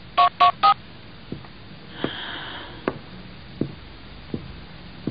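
A telephone number is dialed with three quick keypad tones in a row, followed by a few soft, sparse taps and clicks in a quiet room.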